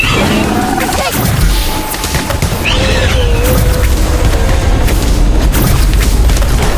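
A loud explosion spell goes off with a deep boom and crashing blast during a dragon fight in a Harry Potter video game, followed by a sustained rumbling roar over game music.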